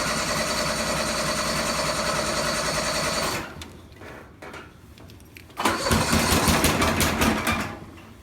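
A cold engine, just refuelled after running out of fuel, cranks and then catches, settling into a steady close idle, then bursts back into loud running after a brief quieter gap.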